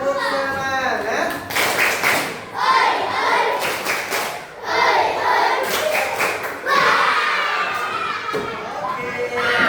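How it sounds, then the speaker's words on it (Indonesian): Schoolchildren in a classroom doing a rhythmic spirit clap, bursts of patterned claps mixed with shouted chanting and voices, loud and close. "tepuk semangat"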